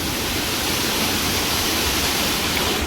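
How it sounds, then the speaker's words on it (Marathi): Steady, dense roar of the Chander waterfall in Malvan, Konkan, deep water rushing continuously and loudly with no voices. "खूप खोल पाणी आहे या धबधब्याला"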